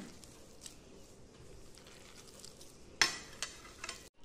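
Hands knead a mixture of spiced shredded cabbage and flour for muithya, making quiet, irregular squishing and rustling, close up, with a sharper clatter near the end and no talk.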